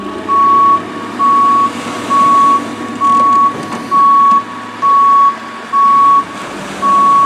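A JCB reverses at West Bay harbour while pulling a small boat out of the water, its loud reversing beeper repeating in a steady rhythm of eight evenly spaced tones over a low engine rumble.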